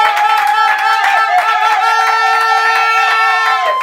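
Steady clapping from a wedding audience as a groom is called forward at a civil marriage ceremony, loud and close, with tonal music or voices layered above the applause throughout.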